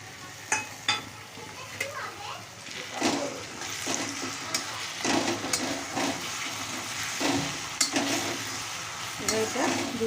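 Onions frying in a pan with ginger-garlic paste and tomato paste for aloo matar sabji, with a steady close sizzle and repeated scrapes and clinks of a spoon stirring.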